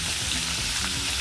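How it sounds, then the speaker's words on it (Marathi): Onion frying in oil with curry leaves added, a dense, steady crackling sizzle throughout, close and loud, with no talk. "कांदा परतत असतानाच आपण ह्याच्यामध्ये आता कढीपत्ता टाकून घेऊया"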